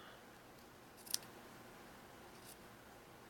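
Sewing scissors snip off a small bit of leotard fabric: a single quick, faint cut over quiet room hiss, heard up close with no one talking.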